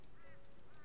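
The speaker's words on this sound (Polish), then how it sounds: "Kruki. Słyszę kruki." Ravens in the video game Rust give short, hoarse honking caws, two or three brief calls at moderate distance over a steady game background hum.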